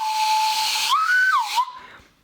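A breathy whistle blown from a carrot, a steady airy tone that bends upward briefly then drops back before fading out.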